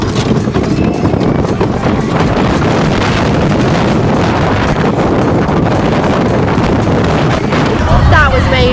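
Front-row ride on the Nickelodeon Streak roller coaster at Pleasure Beach Resort: loud, continuous wind rushing and buffeting the microphone, with faint rumbling underneath.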